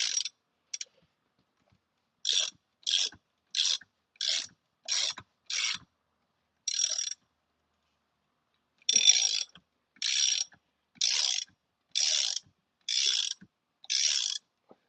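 A hand ratchet loosens a long bolt on a door seat hinge of a Jeep Cherokee XJ, giving bursts of crisp rapid clicking in short, evenly spaced strokes with a pause midway, close and clear with no talking.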